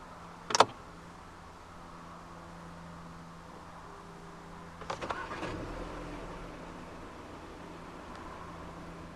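The key turns with a click, then the 1.4 TSI engine of a 2016 Volkswagen Golf GT cranks briefly and catches into a low, quiet idle that hums on in the background.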